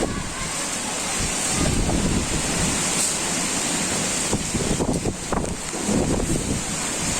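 Strong storm wind roars steadily, blasting a microphone outdoors among trees with loud gusts swelling and easing over several seconds, with no voices.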